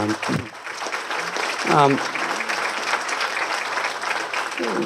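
Audience applauding the veterans services team at a Somerville heroes salute ceremony, a steady dense clapping that fills the whole stretch, with a brief voice heard near the start.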